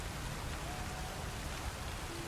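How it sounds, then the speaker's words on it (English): Steady rain falling in the video game Satisfactory, a dense even hiss of drops on surfaces that holds at a constant moderate level throughout, with no voices. "It is a very cool effect though. The rain knows exactly where to fall."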